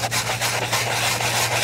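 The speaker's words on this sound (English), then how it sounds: "if you scrub on it, that rust starts coming off" Steady, close scrubbing on rust covering an old painted metal relic dug up from under floorboards, a continuous abrasive rasping with a low hum beneath and no talking.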